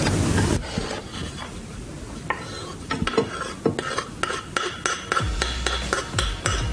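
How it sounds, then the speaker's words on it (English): A utensil mixes vanilla into a dessert mixture in a bowl, with steady scraping and a run of sharp clinks against the bowl that grow more frequent toward the end, close and clear with no talking. "So you're mixing in the vanilla now?"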